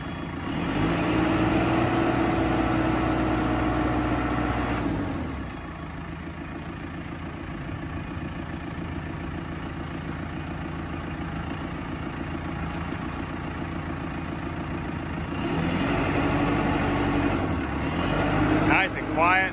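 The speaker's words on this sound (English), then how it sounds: "Nice and quiet, nice and smooth. Just a really nice backhoe." A 2014 JCB 3C backhoe engine runs at a smooth, steady diesel idle. The drone dips slightly quieter for several seconds before swelling back up near the end.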